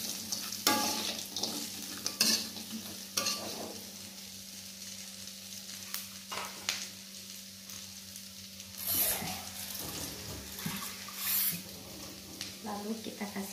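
Tempe sizzles in a spiced sauce in a pan while being stirred for sweet orak arik, with a soft steady fry and intermittent sharp scraping strokes, heard close, and a voice talking at times.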